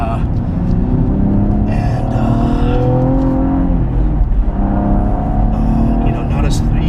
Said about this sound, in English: Turbo sounds really good on throttle on this track.